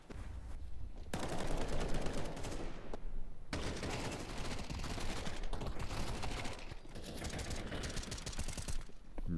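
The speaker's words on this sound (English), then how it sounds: "Nice shooting out of Innocent" Dense gunfire in a shooter video game esports match, with long bursts of rapid automatic shots broken by brief pauses, loud and continuous with no voices over it.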